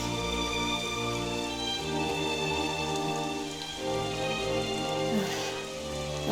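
Steady rain falling in Dragon Quest XI, a constant even patter under a sustained tonal music bed, moderately loud throughout with no pauses.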